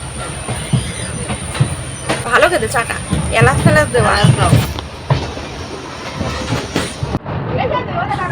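A passenger train bound for Benaras runs across Nomghat, its steady rumble and rhythmic clatter close and loud, with wheels squealing now and then. People talk nearby over the noise.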